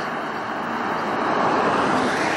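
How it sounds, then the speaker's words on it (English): Fast road traffic rushing past on a rural New Zealand highway near Waitakaruru, a continuous loud broadband roar and wind-like hiss that swells slightly as vehicles speed by close to the roadside. "the traffic comes past here pretty quick"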